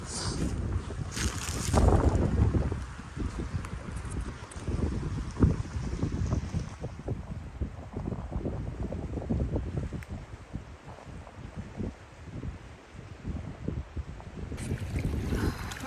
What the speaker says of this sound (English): I don't know when this wind's gonna die down